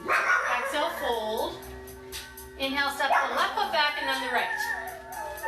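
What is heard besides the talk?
dog barking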